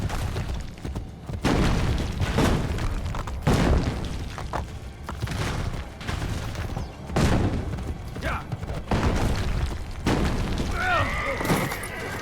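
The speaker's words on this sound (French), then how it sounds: "il y a des obus de partout" Heavy booms and thuds from artillery shells exploding all around in the game Assassin's Creed Brotherhood, repeated loud impacts with crackling debris, while someone talks over much of it.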